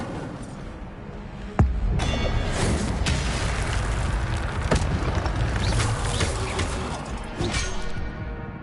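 Incendio fire spell cast in Hogwarts Legacy: a sharp burst followed by a loud, roaring rush of flame that sustains for several seconds with crackling flares, no talk over it.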